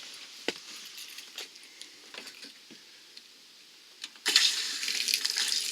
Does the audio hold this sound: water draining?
yes